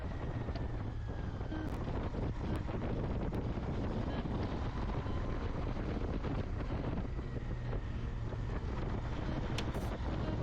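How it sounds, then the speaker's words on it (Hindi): Cool mountain wind near Munsiyari in the green Kumaon hills, heard as a steady, loud, rushing roar buffeting the microphone for the whole stretch, with no voices. "ठंडी ठंडी हवा चल रही है"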